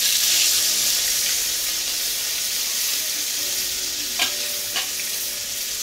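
Ginger garlic paste hits hot oil, left from frying fish, in a Bengali kitchen and gives a loud, steady sizzle with stirring scrapes, plus a couple of sharp clinks near the end.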